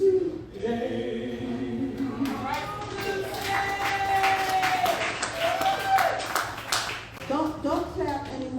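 An audience at a live community radio anniversary event claps continuously, a patter of hands running under a voice that sings and speaks throughout.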